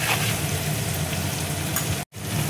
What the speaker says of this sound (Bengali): আদাটা দেখো ভাজা হয়ে গেছে, আদার একটা যে কাঁচা গন্ধ, সে গন্ধটা দেখো চলে গেছে।